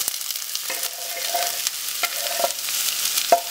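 Onion and garlic fry in hot oil in a pan with a steady, close sizzle, stirred with a few sharp scrapes and clacks of a utensil against the pan, and no voices.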